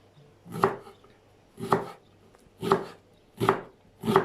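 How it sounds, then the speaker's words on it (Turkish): A kitchen knife chops vegetables finely, onions and tomatoes among them, for a quick dürüm: five crisp, evenly spaced strikes about a second apart, close by and with no talking. "ne kadar ince doğrarsanız o kadar hem lezzetli olur hem daha çabuk pişmesini sağlarız"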